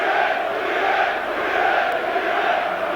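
A capacity crowd of about 40,000 West Ham and Nottingham Forest supporters fills Villa Park at a 1991 FA Cup semi-final, a dense continuous roar of massed voices and chanting, loud and steady throughout.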